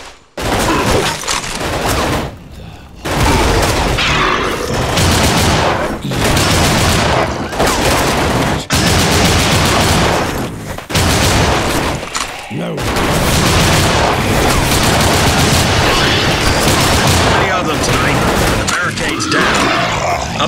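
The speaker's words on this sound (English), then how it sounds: "In the middle of a war, with nothing around me but gunfire." Gunfire roars in the NecroVisioN video game's wartime battlefield, dense bursts of rifle and machine-gun shots with booming blasts that run almost continuously at close range, broken by a few short pauses, with grunts amid the din.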